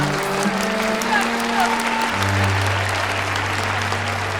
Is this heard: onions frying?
no